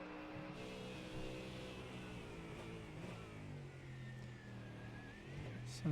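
A Mustang GT3 race car in iRacing at Circuit Gilles-Villeneuve sounds off with a faint, distant engine drone that rises and falls as it laps, alongside other cars' engines and a little commentary.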